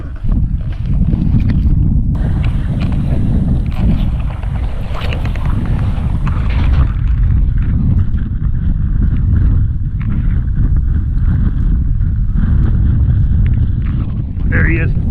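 Steady wind roars over the microphone aboard a fishing boat on Grand Lake, a dense continuous rush that holds loud throughout the whole stretch with no clear gaps or pauses.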